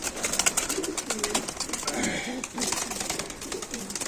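Pigeons coo repeatedly at moderate loudness against a busy, cluttered background, and someone talks in snatches.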